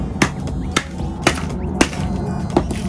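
Hammer strikes on a block of ice holding sea-creature toys: five evenly spaced, sharp knocks about half a second apart over a low background hum.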